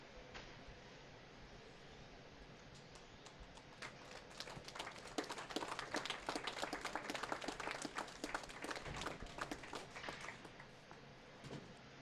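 Spectators at a curling bonspiel applaud as teams leave the ice, a faint, distant patter of clapping in a large rink that builds in the middle and then thins out.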